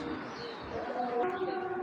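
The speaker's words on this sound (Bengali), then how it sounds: "পিক সাইজের একটা কবুতর" A racing pigeon coos softly nearby, a low rolling call repeated over faint background noise.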